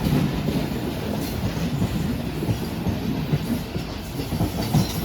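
The Awam Express train passes the Pakistan Express at Bin Qasim station near Karachi, heard as a continuous rumble of rolling wagons with rhythmic wheel clatter. No one speaks.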